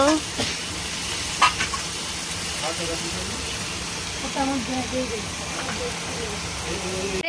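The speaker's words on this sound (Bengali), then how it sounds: "কুমড়োগুলো দিয়ে দিল সব মশলা নিয়ে কষিয়ে নিয়েছে" Pumpkin pieces and hilsa fish fry with cumin paste, turmeric and salt in a pan, a steady close sizzle with stirring scrapes, partly under a voice talking in the background.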